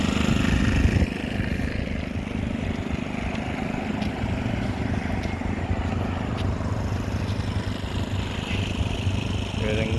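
A small engine hums and rattles steadily at close range, a constant mechanical drone like a portable generator running.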